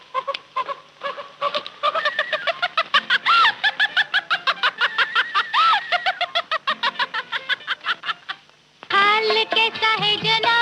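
A hen clucks and cackles in a rapid, regular run of loud, close calls that keeps going for several seconds before a brief pause and a fuller burst.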